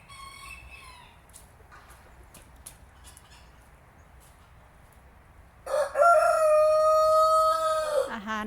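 A rooster at a Thai temple in Belgium crows loudly and close, a long strained cock-a-doodle-doo in the second half. It follows a brief earlier call and scattered faint clucks over quiet outdoor ambience.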